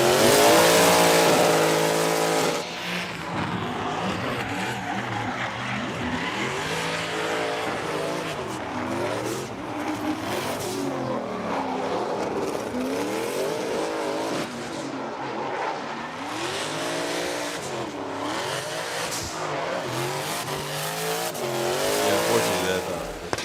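A drift car running at Okayama International Circuit during Formula Drift Japan qualifying: a loud engine rising and falling, with tires squealing as it slides, under continuous commentary.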